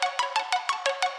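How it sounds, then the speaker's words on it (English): Short processed tone bursts pulse about six times in just over a second through a compressor set to a fast release, each hit clipped off quickly with a bright, ringing top, no voices. "this is how it sounds with a fast release"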